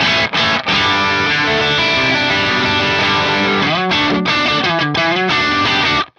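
Loud, heavily distorted electric guitar chords roar through an Axe-Fx III amp modeler using a Brit 800 amp and 4x12 cabinet, sustained with a few short stops and rhythmic chugs toward the end.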